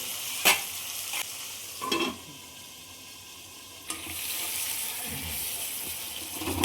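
Tomatoes and onions fry in a pan for chicken curry, giving a steady close sizzle broken by a few sharp spoon knocks and scrapes against the metal.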